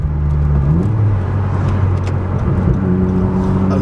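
A 10th gen Honda Civic Si fitted with a 27WON W1 turbo upgrade drives close by, engine note rising and shifting as the turbo spools with a whirring tone, loud and alone without talk.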